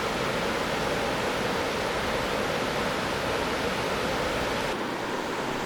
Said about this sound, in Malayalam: അവിടെ അതേ വെള്ളം ഇങ്ങനെ പതഞ്ഞ് നുരഞ്ഞ് പതഞ്ഞ് ഒഴുകുന്നതുണ്ടോ